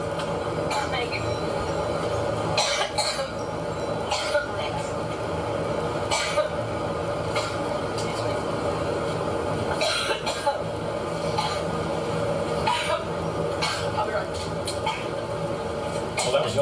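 A woman breaks into a coughing fit at a press conference aboard her new campaign plane: repeated sharp coughs come in scattered bursts over a steady cabin engine hum, with people talking around them.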